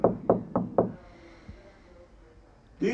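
Four quick, loud knocks on a door in a rapid even rhythm, then near silence with a faint thud, before a voice starts at the end.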